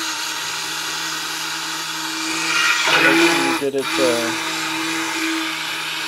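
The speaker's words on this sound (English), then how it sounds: "If you just use a spoon, it will take hours. So stick blender," A stick blender whirs in a batch of goat's milk soap, a steady high motor whine that briefly strains and shifts pitch midway, with a short spoken remark nearby.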